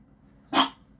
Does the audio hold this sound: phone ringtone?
no